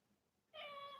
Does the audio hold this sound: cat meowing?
yes